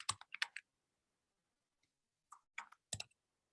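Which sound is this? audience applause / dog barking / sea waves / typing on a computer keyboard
typing on a computer keyboard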